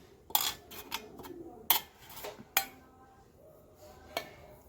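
A hand moves around a metal puja dish holding sandalwood paste during a Shiva lingam worship, making several sharp clinks and light metallic rattles spaced irregularly, close up and fairly loud.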